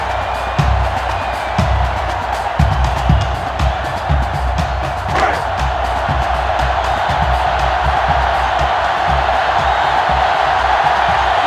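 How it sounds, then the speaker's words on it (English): Stadium crowd in the NCAA 06 football video game, Tennessee at Notre Dame, roaring steadily as the defense urges fans to their feet, with a dense, sustained wash of cheering and low thumps throughout. "the defense urging the crowd to get to their feet"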